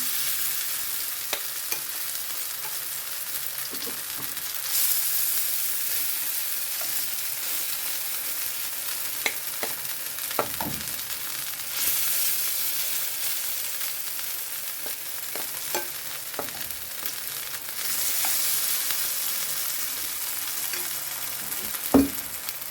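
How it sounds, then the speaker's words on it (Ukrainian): Oil sizzles steadily in a pan of frying potato pancakes for a long stretch, with occasional scrapes and clinks of a utensil stirring and turning them. "Так, ще одну сковорідку підсмажу."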